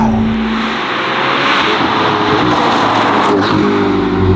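Novitec-tuned Ferrari SF90 engine revving loudly up close, a steady roaring drone that rises in pitch with sharp throttle blips toward the end, no talking.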